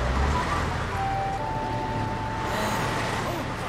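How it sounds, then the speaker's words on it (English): Construction vehicles work in a steady, dense rumble of engines and machinery, a continuous wash of noise with a faint whining tone drifting through. "Oh, it's the sound of construction vehicles working hard."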